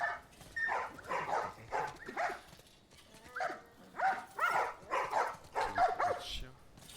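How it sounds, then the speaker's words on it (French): A dog in The Last of Us Part 1 barks repeatedly in short bursts of a few barks each, moderately loud and somewhat echoey, with a brief pause midway before the barking resumes. "Chien."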